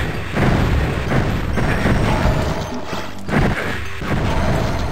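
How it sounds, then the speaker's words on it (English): Loud, dense blast and crashing rumble from a time bomb going off in the video game Heretic, sustained and noisy with several heavy swells across the stretch. "this is what a time bomb does"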